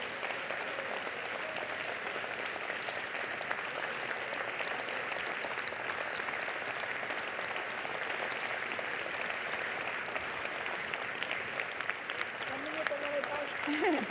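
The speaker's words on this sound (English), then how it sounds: "So please, a big applause to all these individuals." Sustained audience applause for the organizing team at a summit closing ceremony, many hands clapping steadily throughout with a few voices rising over it near the end.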